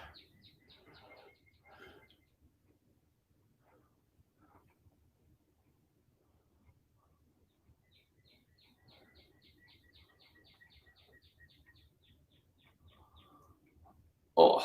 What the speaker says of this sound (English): I don't know if you can hear the birds going off this morning